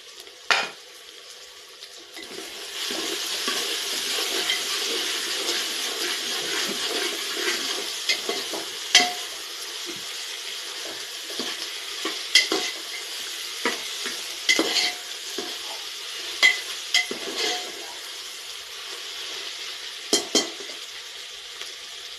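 Masala rice ingredients with potato garlic paste sautéing in a pan, sizzling steadily with repeated sharp scrapes and clinks of a spoon stirring, alone and fairly close.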